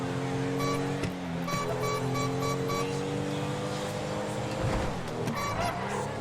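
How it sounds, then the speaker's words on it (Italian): A car horn in Grand Theft Auto V sounds in a run of short, evenly spaced honks near the start, over a steady engine drone and road noise, with no talk. "No, sto clacson è la cosa più bella."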